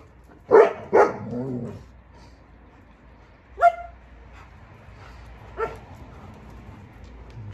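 A German Shepherd near its kennel gives two sharp close barks followed by a soft whimper, then after a pause another single yelp and a fainter later whine over a quiet background.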